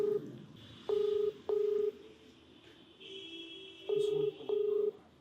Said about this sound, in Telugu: ఒకసారి కాల్ చేద్దామండి